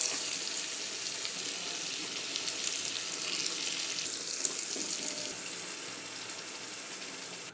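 Fish dropped into a pan of sizzling, well-fried spice masala for a winter-vegetable fish curry, giving a steady loud hiss and crackle of frying that carries on unbroken throughout.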